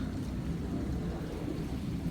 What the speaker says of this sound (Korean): 지금도 비가 내리고 있는데요